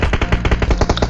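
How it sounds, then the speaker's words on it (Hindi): Rapid automatic gunfire in PUBG Mobile, a fast, loud, close burst of evenly spaced shots running without a break. "काफ़ी ज़्यादा फायरिंग हुई हम पे भी।"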